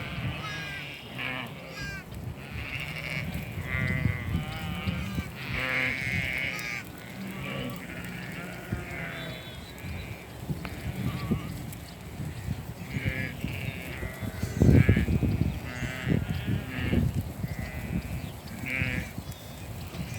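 Ewes and young lambs call across an open lambing pasture, with repeated bleats from several animals overlapping at varying distances and a crow cawing now and then, all over a constant outdoor background.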